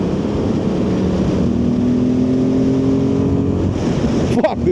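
A Royal Enfield Himalayan 450 motorcycle runs steadily with a continuous engine drone and broadband wind rush, ending with a brief clatter near the end; no talking over it.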